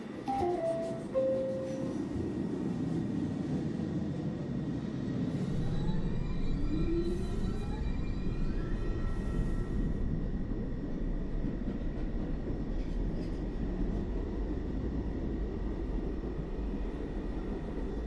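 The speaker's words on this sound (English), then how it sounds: "Uptown One local train, the next stop is Cambridge Street." An automated NYC subway R62 train on the 1 local, ridden between Rose Street and Rector Street, gives a steady loud rumble and roar throughout, with rising whines and tonal squeals from the motors and wheels as it moves.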